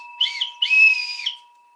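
A whistle is blown in two short shrill blasts, the second longer, close and clear with no other sound around it.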